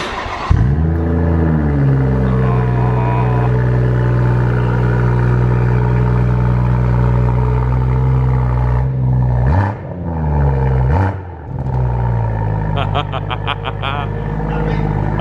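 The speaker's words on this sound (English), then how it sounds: "You know, you just have to fire this up to hear it." A BMW M140i Shadow Edition fitted with a Remus exhaust starts up with a loud burst and settles into a deep, steady idle, with a couple of sharp revs blipping through near the end, close and dominant.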